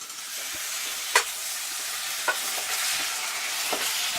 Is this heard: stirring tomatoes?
yes